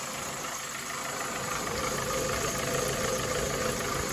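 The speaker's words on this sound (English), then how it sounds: "We'll let it idle, get it at the temperature, see if it throws any codes." A car engine idles steadily while warming up after repair work, a continuous even rumble with a faint mechanical vibration, heard alone and fairly close throughout.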